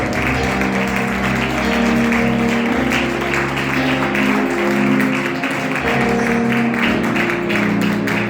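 Congregation applauding for God during a church sermon, a steady, sustained wash of clapping from many hands lasting throughout, with music or organ tones held underneath.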